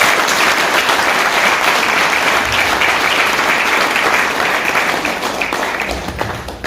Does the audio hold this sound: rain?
no